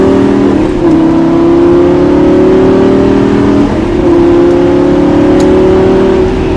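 A Lamborghini LP560 at full throttle on a track, its engine note loud and close, climbing steadily with a brief dip at a gear change before rising again, no voices over it.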